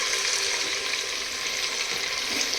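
Mutton curry fries in a clay pot while being stirred, a steady close sizzling hiss with faint scraping, continuous and even throughout without pauses.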